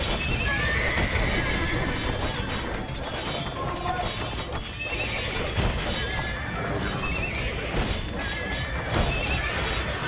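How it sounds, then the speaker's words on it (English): Horses whinny and neigh repeatedly amid crashing and thwacking as a horse pen is destroyed in Age of Empires 2, a dense, continuous battle din with the neighs rising clearly above the clatter. "The Athenians keep their horses in this pen. Destroy it."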